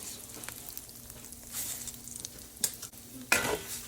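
Uncooked rice is stirred and toasted in oil in a pan for Mexican rice, a soft, faint sizzle with light scraping strokes and a couple of sharper clinks near the end.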